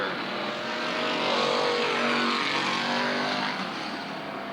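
Race cars lap the Southern Oregon Speedway track, their engines a loud, sustained roar that swells and fades as the field passes, rough and continuous with no clear break.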